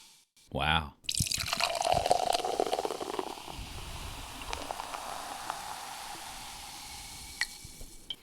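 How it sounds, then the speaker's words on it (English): Hard seltzer poured into a glass, with a brief pour near the start followed by a long quiet fizz and small scattered drips and pops. People talk quietly over it. "You hear that little drip?"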